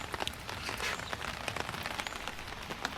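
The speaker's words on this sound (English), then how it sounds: "It's still pissing down rain." Heavy rain drums steadily on an umbrella close overhead, a dense patter of drops with sharper individual hits throughout, no voices.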